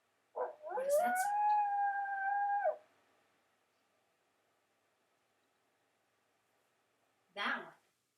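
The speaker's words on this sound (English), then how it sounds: "Coyotes howl similar to a wolf, and they also bark." A lone coyote gives a long, sustained howl with a steady wavering tone lasting about two seconds. A short yelp follows after a silent pause. The sound carries clearly and no people talk.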